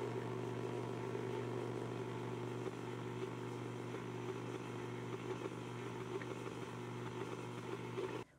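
A stand mixer with a paddle runs on low, mixing scone dough of pea-sized butter pieces and cold half and half. Its motor gives a steady, even hum that carries on unbroken and then cuts off at the end.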